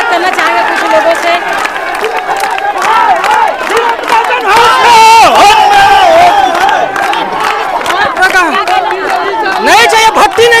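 Crowd of angry villagers chanting protest slogans against a liquor shop, loud overlapping shouting voices in rising and falling waves, with scattered clapping mixed in.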